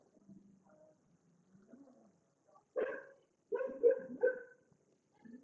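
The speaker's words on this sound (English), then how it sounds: "If you can hear the dogs bark when you saw the door open, I apologise." Dogs barking indoors near a door that has just opened, a few short sharp barks in two bursts, moderately close, with quiet background beforehand and no talking.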